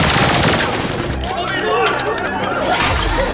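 Rapid bursts of gunfire in an action-film courtroom shootout, dense and loud, with a voice talking over the shots.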